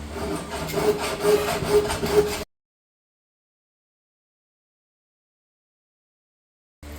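Hand file rasping along a blade bevel held in a filing jig, a steady scraping rhythm of repeated strokes for about two seconds before the sound cuts to silence, returning briefly at the very end.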